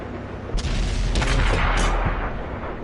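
Heavy tank cannon fire in World of Tanks, with a loud boom followed by a couple of sharp impact blasts over a rumbling battlefield background.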